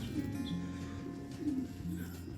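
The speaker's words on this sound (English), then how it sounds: "You hear the birds in the background." Birds coo softly outdoors in spring, a few low, rounded dove-like calls repeating in a gentle rhythm, faint against quiet background noise.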